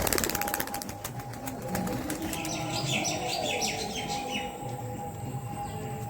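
Pigeons, male birds with cut-neck markings, released outdoors, give a burst of close wing flapping and fluttering at the start, then birds chirp and call over a steady outdoor background.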